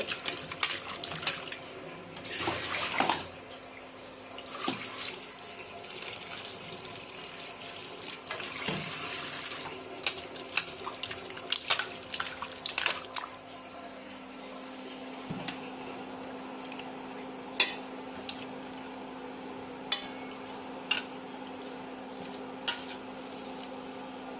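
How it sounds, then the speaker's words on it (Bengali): Chopped vegetables, a hard-cut stem vegetable to be added to rice, rinsed under a running kitchen tap, with steady water flow and intermittent splashing and clatter as pieces are handled, no talking. "আমি এখন ধুয়ে নিচ্ছি"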